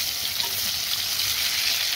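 Pointed gourd fries in plenty of oil over a full gas flame, giving a soft, steady hiss and sizzle that runs evenly from start to finish, with no talking.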